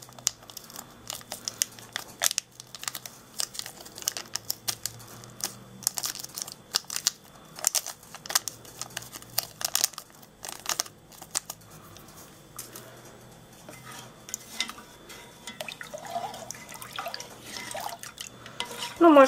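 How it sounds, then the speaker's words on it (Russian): Powder from a sachet being poured into a glass of liquid and stirred until dissolved: irregular crinkling, ticking and dripping clicks of granules and spoon, close and fairly quiet, with faint rustling throughout. "И полностью все высыпаем туда и размешиваем"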